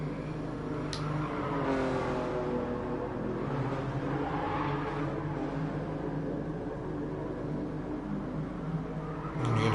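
Race car engines in an FIA Nations Cup online racing game hum steadily with the rising and falling pitch of revs and gear changes, and other cars are close behind, all heard without any talk.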